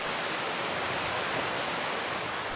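Water in a small creek pours over a little waterfall in early spring, a steady, dense rushing hiss that stays even and close throughout with no pauses or voices.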